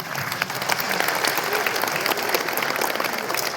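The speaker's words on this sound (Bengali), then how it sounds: "জোরে হাততালি" A conference audience claps loudly and steadily for a felicitation, dense applause from a crowd filling the hall without pause.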